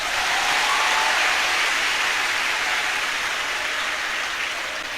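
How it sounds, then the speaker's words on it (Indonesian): An audience at an Indonesian religious lecture applauds, a dense, loud, steady wash of many hands clapping that fades slightly over five seconds, with no talk over it. "Tepuk tangan toh."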